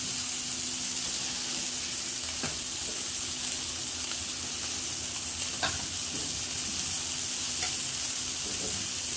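Keto cheeseburger patty frying in a pan, a steady dense sizzle that continues without a break, with a few faint utensil taps and no talk.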